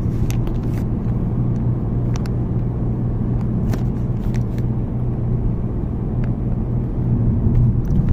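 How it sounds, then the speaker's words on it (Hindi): A Nissan Magnite non-turbo car accelerating in top gear up a slope toward 80, heard from inside as a steady low engine and road drone with faint ticks and rattles above. "अभी हम गाड़ी को 80 पे लेके जाएंगे और देखते हैं तब कितने RPM इस गाड़ी के होते हैं"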